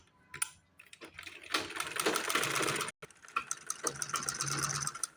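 A sewing machine stitches a folded hem on a pajama in quick rattling bursts, with brief stops and a sharp pause between runs, close and clear with no talking.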